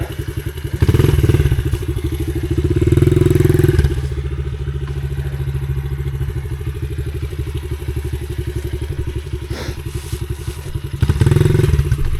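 A dirt bike engine revs hard and loud while the rider spins in slick donuts, a steady throaty drone that swells into louder bursts of throttle at the start, middle and end, with occasional clattering thumps.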